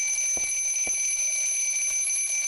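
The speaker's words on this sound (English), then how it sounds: "Oh, it's just an alarm clock." Alarm clock ringing in the Silent Hill 3 video game: a loud, continuous high-pitched electronic tone sounding on its own, with faint low thumps now and then beneath it.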